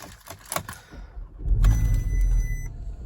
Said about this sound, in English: and the car fires up to life